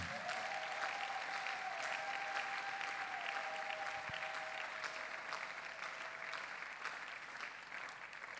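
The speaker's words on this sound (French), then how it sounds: "Applaudissons pour le Seigneur" A church congregation at a prayer mass applauds steadily and faintly, the dense clapping continuing throughout over a sustained musical tone.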